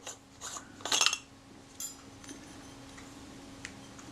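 Parts of a Leitz Elmarit R 180mm f2.8 lens are unscrewed, making a few faint, brief metallic scraping and ticking sounds close by, with one short grinding burst standing out.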